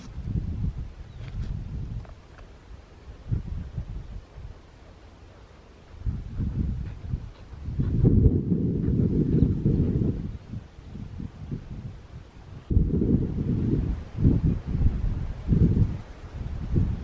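Breezy wind gusts outdoors during a plain-air painting session, rushing in uneven, low rumbling waves against the microphone with rustling between gusts, loud and close, no voices.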